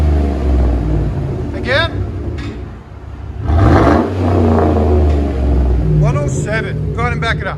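A Chevy Tahoe with a 5.3L V8 engine, modified exhaust, revs up while parked, a loud throaty surge swelling in the middle before settling back to a steady rumble, with people talking over it.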